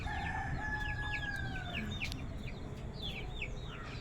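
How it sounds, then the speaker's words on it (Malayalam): Many hens cluck in a farmyard while a rooster crows partway through, birds nearby over a steady background hiss, with no voices. "ഒരുപാട് കോഴികളുണ്ട് കേട്ടോ ഇവിടെ"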